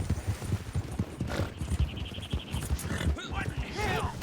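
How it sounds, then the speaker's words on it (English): Horse hooves clip-clop steadily in a video game, with a brief whinny partway through, all under people talking over a busy in-game background. "Your horse just freaked out there for a second."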